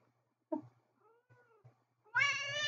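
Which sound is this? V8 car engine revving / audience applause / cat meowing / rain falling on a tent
cat meowing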